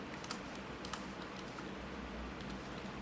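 Code is typed on a computer keyboard in a quiet room, faint rapid key clicks in irregular bursts over a low background hum.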